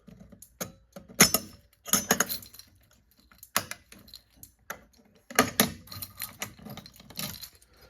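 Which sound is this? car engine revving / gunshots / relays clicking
relays clicking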